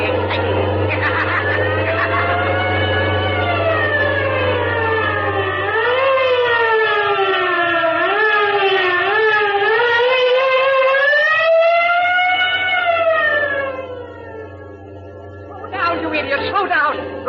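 A police car siren in a radio drama chase scene wails and swoops up and down in pitch, loud and close, for most of the stretch before briefly dropping away and returning.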